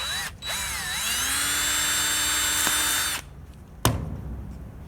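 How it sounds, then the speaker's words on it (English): A power drill with a 1/8 inch bit bores through the center of a wooden model propeller, whining steadily for about three seconds after a quick spin-up, then stopping, followed by a sharp click. "you're going to drill a hole right through the center where that mark is"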